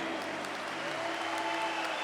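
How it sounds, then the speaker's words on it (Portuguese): A church congregation applauds during a Catholic Mass, a faint, steady, distant wash of clapping that continues evenly throughout. "Pode aplaudir o Senhor. Pode aplaudir."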